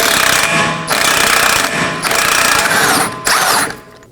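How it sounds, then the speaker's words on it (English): An impact wrench with a 32mm socket loosens a rear axle nut on a Chevrolet Equinox, firing in several loud, rattling bursts separated by brief pauses, a harsh hammering mechanical buzz close by. "I'll be using a 32mm socket and an impact wrench."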